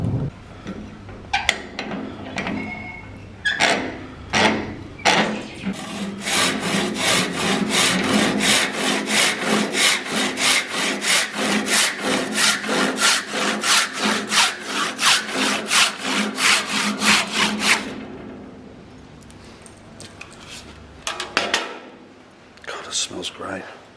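Hand saw cutting through a eucalyptus-scented wood blank for a new parang handle: a run of steady back-and-forth strokes, close and loud, with scattered knocks and short scrapes before and after the sawing.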